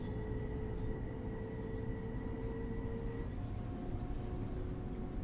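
A Long Island Rail Road train runs in the simulator game Train Sim World 4, giving a steady low rumble with faint sustained wheel and motor tones throughout, quiet and with no talking.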